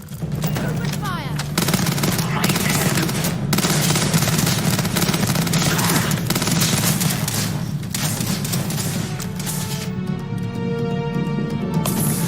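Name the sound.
gunfire in Starfield video game firefight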